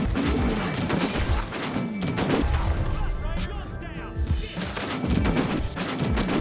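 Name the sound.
Maxim machine gun fire in Red Dead Redemption 2 video game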